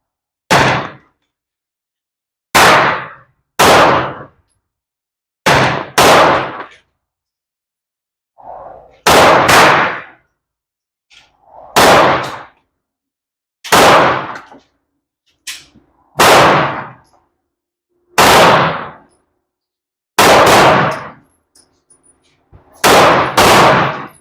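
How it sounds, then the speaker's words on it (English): A Walther PDP Match pistol fired at a range, about a dozen loud sharp shots that come singly and in quick pairs with pauses between them, each one close and cracking. "this is Adrian shooting the PDP match"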